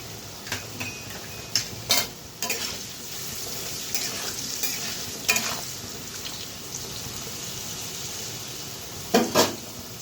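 Potato pieces seasoned with salt and turmeric sizzle steadily in hot oil for alu posto dalna, a continuous close frying hiss broken by several sharp scrapes and clinks of a spoon stirring against the pan.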